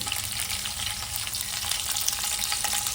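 Garlic and green chillies frying in hot oil in a home kitchen pan, a soft, steady hiss and crackle of sizzling with light bubbling texture throughout, fairly quiet and unbroken, no one talking.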